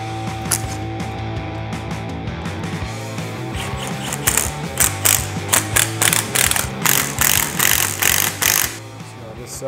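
Allen bolts being tightened on a Can-Am Maverick R rack, a fast ratcheting clicking that starts mid-clip and repeats in short regular bursts, close and fairly loud over faint background hum.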